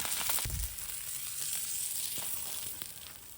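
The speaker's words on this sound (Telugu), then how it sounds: "చేప అయితే ఎలా ఫ్రై అవుతుందో." Sea fish frying in oil, village style: a continuous hiss of bubbling oil throughout, with a soft thump near the start and a few faint clicks, moderately quiet and close, with no speech.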